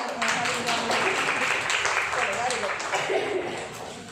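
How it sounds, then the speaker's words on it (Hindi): A sixth-grade science class bursts into dense clapping for a student, a few seconds of steady applause with voices mixed in, tapering off at the end. "अंशिका के लिए भाई ताली"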